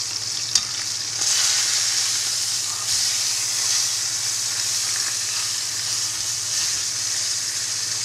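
A leg of lamb sears top side down in a steaming hot pan, giving a steady close sizzle and hiss of frying meat throughout, with one small sharp tick near the start.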